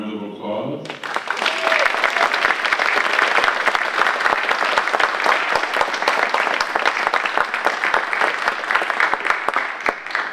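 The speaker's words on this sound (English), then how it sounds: "Can we give Gloria a round of applause?" Audience applause after a talk at an equity and mental health event: dense, steady clapping starts abruptly after a brief spoken moment and carries on evenly to the end.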